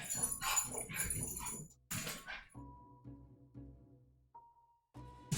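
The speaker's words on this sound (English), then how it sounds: "Dog's found a cat." A dog whines and yips at a cat nearby in a house, with a burst of noisy vocalizing followed by softer, broken whimpers and brief pauses.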